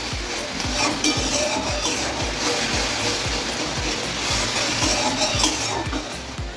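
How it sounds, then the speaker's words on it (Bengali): Ginger and green chili paste with tomato masala frying in a pan, a continuous close sizzle punctuated by regular scraping strokes of a spatula about once every half second, with no talking. "মশলাটাকে আমি ভালোভাবে কষিয়ে নেব"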